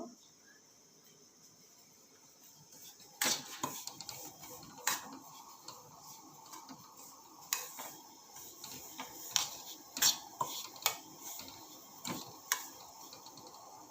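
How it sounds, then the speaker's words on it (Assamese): A spatula stirs semolina (chuji) frying in a pan for laddu, making faint, irregular ticking scrapes and taps that grow more frequent over a quiet background. "ভাজিব লাগিব। এইদৰে ভালকৈ লৰাই থাকক।"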